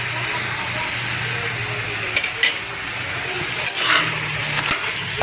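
Sliced onions sizzle steadily in a hot pan while being stirred for Filipino chicken adobo, a constant frying hiss broken by a few scraping clinks of the spoon.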